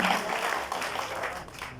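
An audience applauds a man being praised at an event, producing dense, continuous clapping that fills the whole stretch at steady volume with no gaps.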